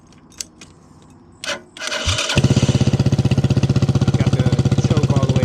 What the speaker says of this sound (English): I'm going to go ahead and crank the motor.